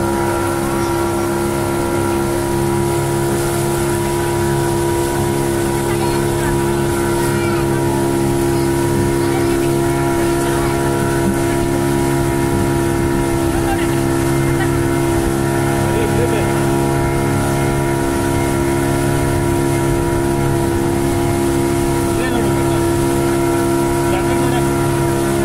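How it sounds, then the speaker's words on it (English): A speedboat crosses an artificial lake at Vrindavan Gardens, its motor droning loud and steady throughout with constant water and wind noise, no pauses. "Now we are on a speed boat towards the other side of Vrindavan"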